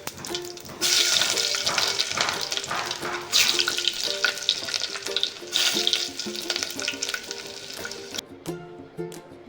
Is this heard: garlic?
yes